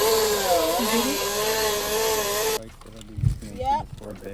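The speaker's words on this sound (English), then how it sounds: "I'm gonna chainsaw." A chainsaw runs outdoors on family land, its engine whining and wavering for a couple of seconds before cutting off abruptly, followed by people talking nearby.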